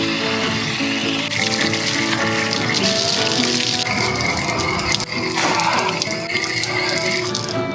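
Water pours and splashes steadily for a quick wash outdoors in the Australian outback near Charters Towers, continuous and close with some clinking.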